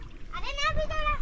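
Water splashing in a river, with brief wet splatters that sound close by under a voice and other speech.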